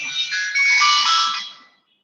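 A phone ringtone rings with a steady, bright electronic melody, sounding clearly for under two seconds before cutting off, with no talk over it.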